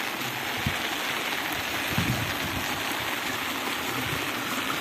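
Steady rain falls in the Sertão backcountry of Tanque Novo, Bahia, a continuous broadband wash of drops with no voices, its even hiss holding at moderate loudness throughout.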